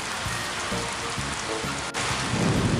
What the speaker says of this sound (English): After raining, sometimes it can be stormy weather.